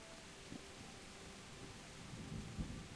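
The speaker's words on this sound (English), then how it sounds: "There's a thunderstorm. It's not just rain, it's thunder." A video game thunderstorm in Kingdom Come Deliverance, with steady faint hiss of rain and soft low rumbles of distant thunder, no speech.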